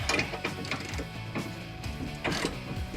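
Bolts on a Jeep Gladiator JT front bumper are loosened by hand, giving a steady run of close ratcheting clicks and metallic turning noise.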